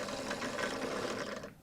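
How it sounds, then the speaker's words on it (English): A sewing machine's bobbin winder spins thread onto a bobbin with a steady close whirring hum that stops abruptly at the end, no talk. "Hold on to the thread while you engage the bobbin winder, and go ahead and start winding."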